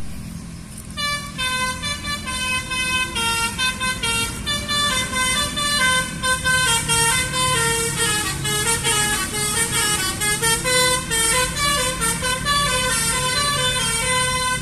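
Buses on an Indonesian road blare long, melodic multi-tone horns in repeated bursts over engine rumble, loud and close, with honks overlapping as they pass.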